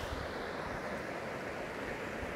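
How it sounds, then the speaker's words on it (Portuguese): Flood-swollen creek rushing full and steady after heavy rains, a dense, continuous roar of flowing water close by with no break or voices. "Olha o volume de água chegando até nós aqui, olha."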